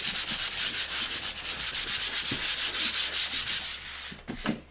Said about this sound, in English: we're going to use our sanding disc to knock back the texture.